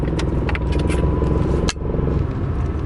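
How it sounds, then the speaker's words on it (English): Car driving on the way to work, a steady road and engine rumble with light rattling and jangling from inside the cabin and one sharp knock partway through. "So I'm driving to work."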